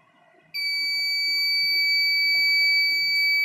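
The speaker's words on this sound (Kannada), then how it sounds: "Okay Google, turn off, sorry, turn on buzzer." An electronic buzzer switched on by a Google Assistant voice command cuts in abruptly and holds a loud, steady, piercing tone until the end.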